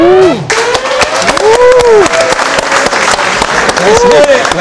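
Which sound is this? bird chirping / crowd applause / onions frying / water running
crowd applause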